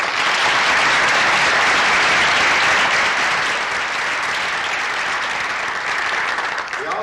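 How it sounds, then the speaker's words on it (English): An audience at a 1991 district spelling bee gives a loud, sustained round of applause, thick steady clapping that fades slightly toward the end. "Let's give the contributors a loud round of applause."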